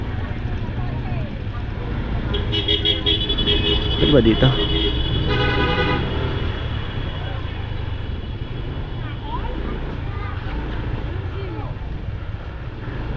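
Heavy city traffic heard from a motorcycle rider's position, with a steady road rumble, several car horn toots bunched in the early seconds, and someone talking throughout.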